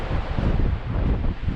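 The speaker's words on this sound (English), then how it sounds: "Oh, yeah, it's so windy." Strong wind buffets the microphone while fishing, a continuous, roaring rush with low gusty rumbling and no voices.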